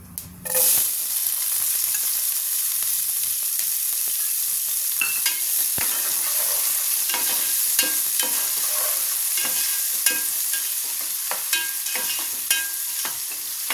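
Chopped onions hit hot oil for a fish and mango curry, bursting into a strong sizzle that settles into steady frying with scattered clicks and stirring knocks, close up.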